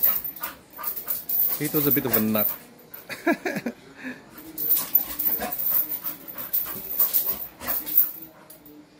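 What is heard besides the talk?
mini bull terrier dog panting and whimpering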